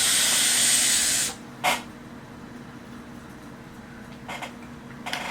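A strong hiss of vapour drawn through a TM24 Pro atomizer fitted with an eclipse cap, loud and steady for just over a second, then a short puff and a few brief faint hisses in quiet.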